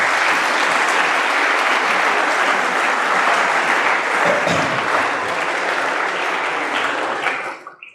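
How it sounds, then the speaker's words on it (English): A large lecture audience gives a sustained, loud round of applause honouring the national army, dense clapping filling the room before fading out at the end. "Please clap for them."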